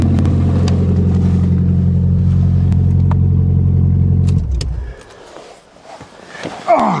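Nissan Stanza car engine on a cold start, loud steady rumbling idle close by that cuts off after about four seconds, followed by quieter rattles and a short knock.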